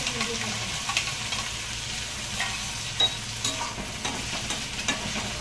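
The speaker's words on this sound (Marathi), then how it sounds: "आणि मस्त आता भाजून घेतो आम्ही मसाला पूर्ण" Masala paste fries in a pan for an egg paneer curry while being stirred, making a continuous loud sizzle broken by repeated scraping strokes, with no talking.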